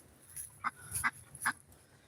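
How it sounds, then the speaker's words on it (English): Ducks kept in a backyard pen give several short, nasal quacks in quick succession, fairly close but not loud, with no voices over them. "And these are my ducks here."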